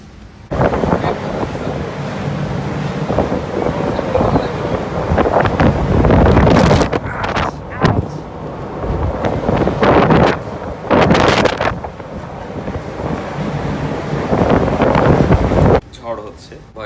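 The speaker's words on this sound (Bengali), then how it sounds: "প্রচণ্ড বাতাস আর বৃষ্টি" Storm wind lashing a ship rolling on the Atlantic Ocean in heavy rain, a loud continuous roar with surging gusts and buffeting against the microphone, intermittent talk over it.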